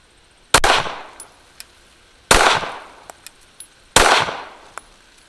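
Three loud AR-15 rifle shots fired while checking a red dot sight's zero outdoors, each a sharp close crack with a ringing decay, spaced about one and a half seconds apart, with faint clinks between.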